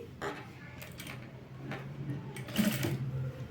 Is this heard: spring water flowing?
no